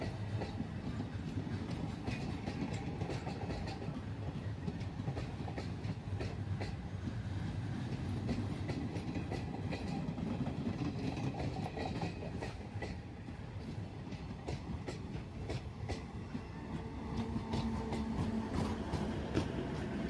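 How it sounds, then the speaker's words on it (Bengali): A train rolls through Champasari forest in the Dooars on a single-line track, its wheels making a steady, moderately distant clickety-clack rumble that carries on throughout. "চম্পাশাড়ি জঙ্গলের মধ্য থেকে একটা ট্রেন আসছে"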